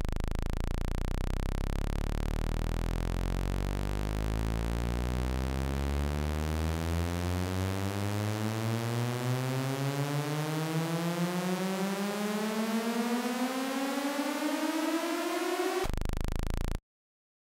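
Synthesized noise from the Massive software synth, a dense hiss with a rising, sweeping tonal layer that climbs steadily for about sixteen seconds before abruptly stopping, heard alone with no voices.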